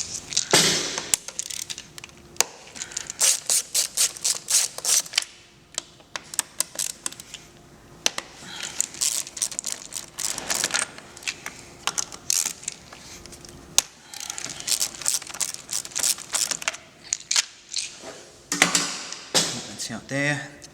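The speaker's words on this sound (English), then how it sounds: "make sure you've got a good Phillips head screwdriver when you go to undo them. We'll just undo them now" A Phillips head screwdriver works loose tight screws, giving bursts of sharp, close clicking and ratcheting ticks in rapid irregular runs, separated by short pauses.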